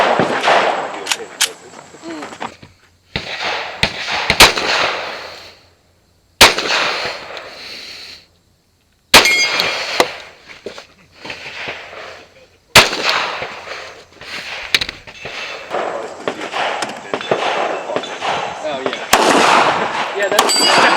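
Pistol shots at a two-gun shooting match, fired at steel targets: a string of sharp, loud cracks spaced irregularly, some in quick pairs, with ringing between them and brief silent pauses.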